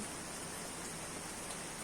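Rain falls on garden flower beds in a steady, dense, even hiss, faint and unbroken, with no voices.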